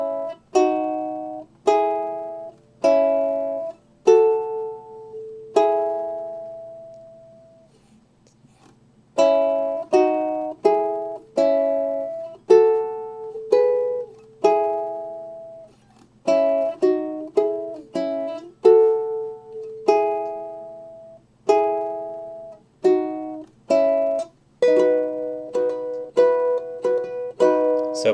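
A ukulele picks a melodic embellishment on only the second and third strings for a song, bright plucked notes in short runs and phrases with brief pauses between them, close and clean with no talking.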